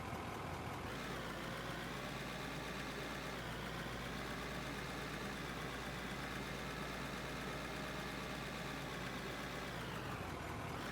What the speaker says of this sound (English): Wait, can you not hear the engine noise?